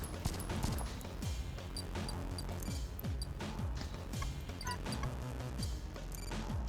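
Rapid, dense gunfire from a magazine dump in the Descent of Lunaris video game: a continuous stream of loud shots with sharp impacts and a busy, cluttered mix behind them, running the whole time.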